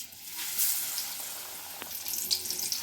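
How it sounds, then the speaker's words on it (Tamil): An onion slice coated in batter drops into hot oil for bajji and bubbles up in a soft, steady frying hiss, quiet and close, with faint crackles. "இப்போ நம்ம இதில் எண்ணெயில் போடலாம்"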